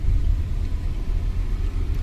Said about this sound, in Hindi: तो समेश भाई गाड़ी चला रहे हैं।